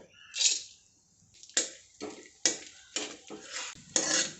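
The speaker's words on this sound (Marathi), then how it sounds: "याच्यामध्ये आपण एवढं तूप टाकून घेऊयात अगोदर आणि याच्यामध्ये ड्रायफ्रूट अगोदर परतून घेऊयात" Dry fruits are stirred in ghee in a hot kadai over low heat: a spoon scrapes and clinks against the metal pan in irregular bursts, with soft sizzling between strokes and quiet gaps.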